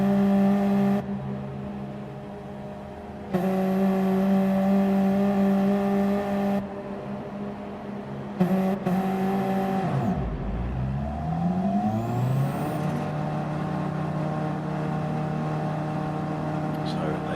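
Several GR3 race cars creep toward the line in a sim racing rolling start at Monza, engines whirring and droning steadily before the revs drop and then climb sharply as the race gets underway.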